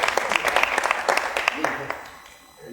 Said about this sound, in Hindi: तालियां बजा दो यार, क्या हो?